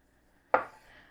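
One sharp, close knife stroke cuts through a tomato and knocks onto a cutting board for pico de gallo, a single crisp chop that fades quickly into quiet.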